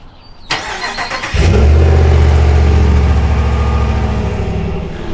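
A 2021 RAM 1500 Bighorn pickup truck engine cold-starts with a sharp crank, then settles into a loud, steady, deep rumble that holds for several seconds, heard close with no talking.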